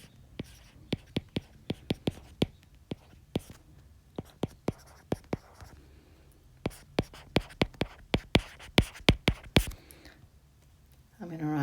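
Pen strokes tapping and scratching on paper as vector maths is written out, a series of sharp, close ticks in uneven bursts with quiet pauses between.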